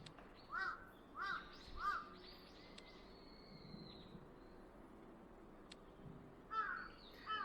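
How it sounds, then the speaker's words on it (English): Crows in Japan cawing in the visual novel I.B., several loud harsh calls in short bursts near the start and again near the end, fairly close, with quiet outdoor background between. "crows in Japan make that kind of noise. They are that loud here."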